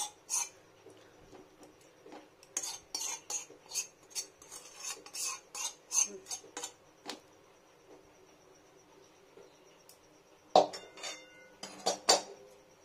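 Whole spices and oil stirred in a pan while cooking a capsicum paneer dish, heard as a steady run of close metallic scrapes and clinks that stop for a few seconds before a few final knocks.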